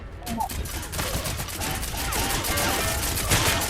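Rapid gunfire bursts in the Level Zero Extraction video game, a fusillade of overlapping shots running throughout, with voices talking over the shooting.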